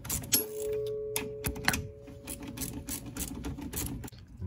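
Two 12 mm bolts are run down during trailing arm bushing replacement on a Honda Civic, heard as close bursts of rapid mechanical clicking with short pauses, fairly quiet, with a faint steady tone underneath.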